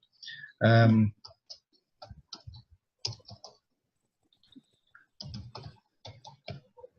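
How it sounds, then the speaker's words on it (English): Computer keyboard typing in short irregular bursts of clicks, with pauses between runs and one louder thump near the start. "Oops, my typing's not very fast, I'm afraid."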